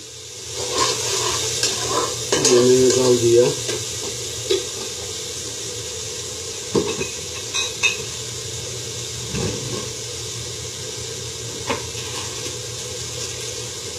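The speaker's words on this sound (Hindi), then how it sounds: "इसको भूनने के बाद पानी हम साथ में डालते जाएंगे ताकि ये जले नहीं।" Whole spices, including cinnamon pieces, fry in a vegetable biryani pot as water is added. A steady sizzle runs throughout, with a louder bubbling burst, scattered clinks of stirring and a brief spoken remark.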